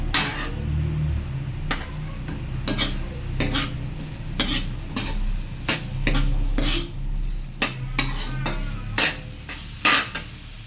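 Ground pork sautéing in a pan with a little oil, punctuated by frequent sharp metallic clanks of a spatula against the pan over a low sizzle; no talking.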